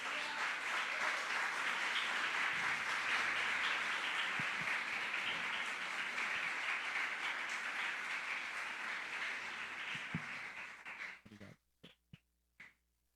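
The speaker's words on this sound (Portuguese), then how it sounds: "Aplauda ao Senhor por essa palavra." Church congregation applauding during an evening youth service, sustained dense clapping from many hands that fades toward the end into a few scattered final claps.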